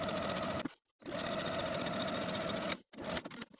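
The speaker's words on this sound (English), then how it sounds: "I'm just going to take it to my sewing machine and edge stitch close to these serged stitches all the way around the bottom" Sewing machine edge stitching a dress hem, running in a steady, close, loud whir for two long stretches separated by brief pauses, then a short final burst, with no talking.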